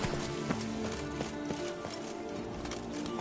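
Roach, Geralt's horse in The Witcher 3: Blood and Wine, running with a rapid, rhythmic clip-clop of hooves under game music, steady and fairly close, no speech.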